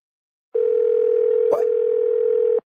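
A steady electronic phone tone sounds after a call is hung up, one clean continuous beep of about two seconds, loud and close, with a brief faint voice overlapping in the middle.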